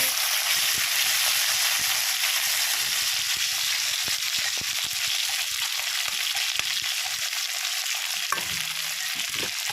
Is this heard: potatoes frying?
yes